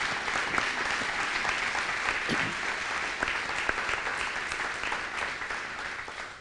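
A roomful of people applauds steadily at an Early Head Start teacher preparation partnership announcement, dense and even, fading slightly at the end.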